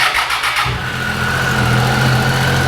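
A Triumph Tiger 800XC motorcycle engine cranks briefly and catches, settling into a steady, loud, close-up idle with a constant hum.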